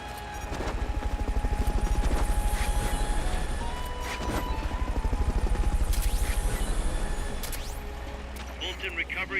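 A helicopter's rotor thumps rapidly and steadily, loud and close, with its pitch shifting slightly as it flies, and a few sharp bursts over the top.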